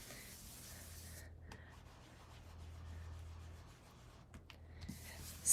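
An Olo marker scratching and rubbing across paper while inking, a soft continuous scribble close to the microphone with brief pauses between strokes.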